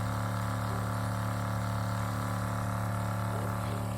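A Shurflo fresh water pump, model 2088554-144, runs from an AQUATANK2 storage tank and discharges onto the ground, giving a steady, close motor hum with a constant tonal drone and no pauses.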